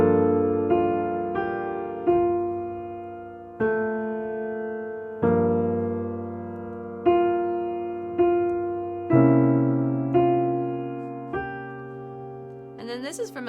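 Piano chords from a song, around ten separate strikes in a slow, even pulse, each ringing and fading before the next, close and clear with no talking.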